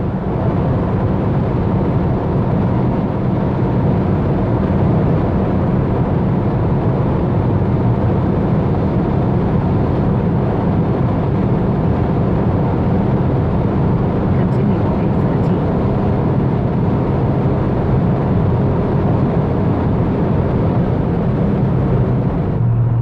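A Honda Civic Type-R FK8 cruising at speed on a highway, a loud, steady engine drone with road and wind roar throughout, heard from inside the cabin.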